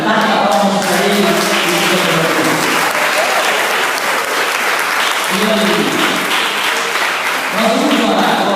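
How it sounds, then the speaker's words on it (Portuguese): Church congregation clapping during a morning worship service, sustained loud applause across the room with voices briefly rising under it near the start and end. "Bata palmas para Ele."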